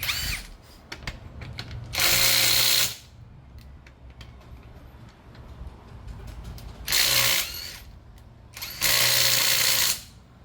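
A cordless impact wrench and cordless screwdriver, RB-SD1608W and RB-SD210 models used for nut removal in an auto service shop, fire in three loud buzzing bursts of one to two seconds each, with quieter mechanical handling between them.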